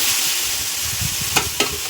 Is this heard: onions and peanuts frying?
yes